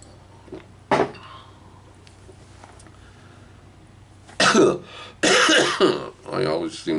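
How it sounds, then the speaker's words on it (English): A couple of sharp coughs, one early and a harsher burst of coughing near the end, close to the mic with quiet stretches between. "I always seem to cough when I make videos"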